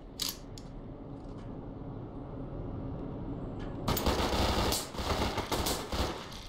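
Gunfire in the online shooter Brain Out, a burst of sharp shots and clicks early on, then a loud dense volley of repeated gunshots in the second half, with no talk.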